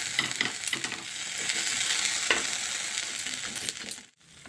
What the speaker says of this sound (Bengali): এইভাবে আমি এটাকে আমি ভেজে নেব।